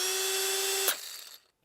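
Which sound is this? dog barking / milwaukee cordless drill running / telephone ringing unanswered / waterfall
milwaukee cordless drill running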